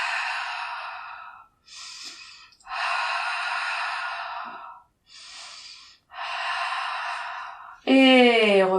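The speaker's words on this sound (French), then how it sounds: "2 respirations." Slow, deep breaths are taken close up during a beginner pilates exercise: several long, airy inhales and exhales separated by short pauses. A voice begins right at the end.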